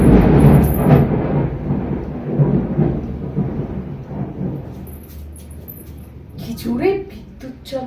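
Deep thunder rumbles and rolls during heavy rain, loud at first and then fading, with a sharper crack near the end.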